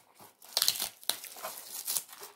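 A product package from a craft supply haul is torn open by hand, giving a few close, sharp crinkling and ripping bursts of plastic or paper in quick succession.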